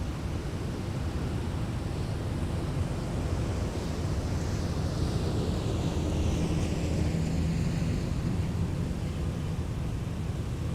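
A Boeing 737-900ER jet airliner departs at an airport, its engines a broad, steady roar heard from a distance, with faint wind rush mixed in and no talk.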